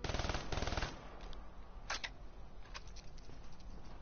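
Light machine gun fire in a PS4 shooter: a loud rapid burst of automatic shots opens, then scattered distant gunfire and impacts follow over a busy game background.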